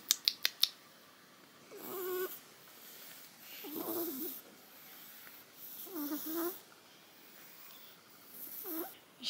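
A cat with dwarfism and a breathing problem breathes heavily and wheezily, with about four slow, rasping, snore-like breaths spaced roughly two seconds apart, faint and close, with no talking.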